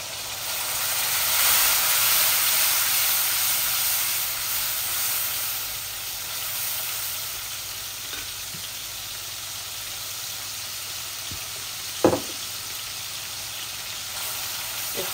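Water poured onto hot spice paste in a pan, giving a loud steamy hiss that swells and then eases into a steady sizzle, with a short clink of a utensil partway through.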